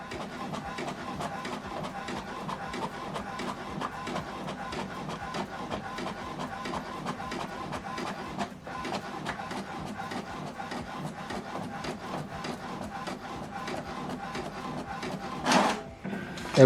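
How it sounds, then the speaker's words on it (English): An HP DeskJet 4200e printer copies a document, its mechanism running with steady rhythmic whirring and scraping of paper feed, a short pause midway and a louder clack near the end. "this is how to copy a document from this printer"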